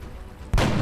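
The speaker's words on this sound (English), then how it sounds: "Everyone open fire!" A single sharp gunshot from the XCOM Enemy Unknown video game, a loud sudden crack halfway through after a quiet low hum.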